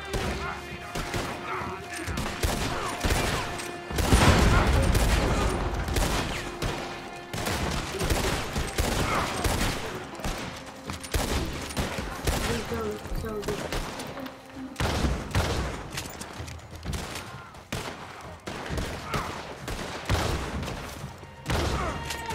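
Shotgun blasts sound in the video game Red Dead Online, loud cracks spaced unevenly through a busy mix of thuds and game noise.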